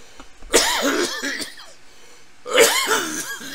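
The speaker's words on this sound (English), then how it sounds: "The coughing segment came on early today." Two loud, close coughing fits, each a harsh rasping burst of several hacking coughs trailing off, separated by a short pause.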